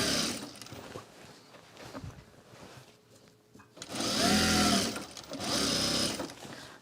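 A sewing machine stitches around the perimeter of a garment-fabric duffle bag; quieter handling and faint rustling give way to two loud close runs of steady whirring stitching.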